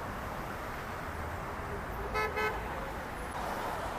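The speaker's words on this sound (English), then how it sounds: "maybe you hear all that noise. That's from the interstate." Steady roar of fast traffic on an interstate highway beside Massachusetts Avenue between Boston and Cambridge, with two short horn toots rising briefly above the constant wash.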